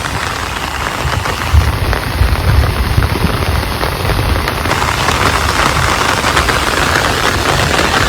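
Steady heavy rain pouring down, a dense continuous hiss of drops close by with no pauses.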